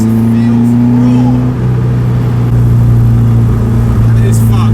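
Caterham 310R engine droning loud and close from inside the car, holding steady tones with small shifts in pitch, while a person talks over it throughout; no distinct pops stand out.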